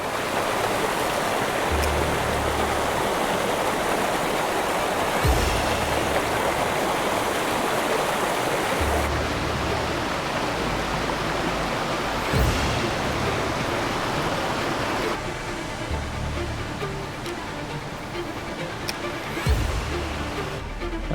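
Cascades and rapids pour through a village in a constant, full rush of churning water, steady and close throughout, with occasional splashes and bumps.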